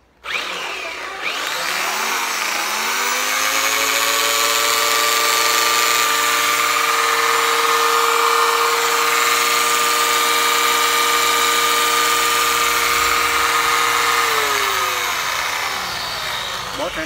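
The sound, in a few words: Japanese domestic 100V electric planer running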